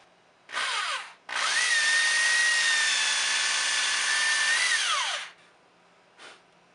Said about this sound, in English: Make sure you drill straight down.